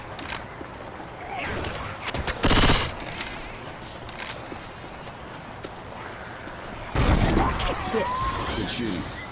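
Gunfire in the video game Left 4 Dead 2: a constant rattle of in-game combat noise, broken by two louder bursts of rapid shots, with voices over the fighting.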